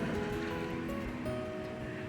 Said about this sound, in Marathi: इतका वारा सुटलाय बघा बघा कशी झाडं हलते जोरा जोरात